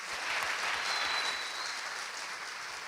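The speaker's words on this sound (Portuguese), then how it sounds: "Dê um aplauso aí" An audience at a church leadership conference gives a round of applause, with a dense, even wash of many clapping hands that holds steady and fades slightly toward the end.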